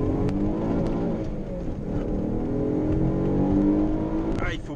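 Alfa Romeo 147 GTA engine pulling steadily while driving, a continuous deep throaty drone with rising tone and a voice talking over it.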